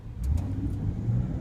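A car pulls away from a stop sign during a police academy driving course, its engine giving a low steady rumble that swells slightly as it accelerates, fairly close with faint road noise.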